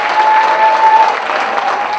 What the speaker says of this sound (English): Another round of applause for Dr. Renetta Garrison-Tull